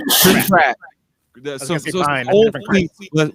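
A single sharp, noisy sneeze bursts out at the start, close and loud, followed by a pause and then people talking.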